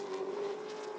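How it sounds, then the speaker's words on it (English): Steady, loud engine drone from a Toyota race car on track during CARS Tour qualifying at Dominion Raceway, a continuous close roar that holds for a moment without any break. "And the final car, the 22 of Carson Lofton, on track."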